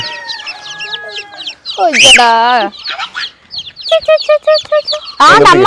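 Native chicks and hens cluck and chirp in a busy poultry farmyard, with a rooster crowing loudly near the middle and more bursts of poultry calls toward the end.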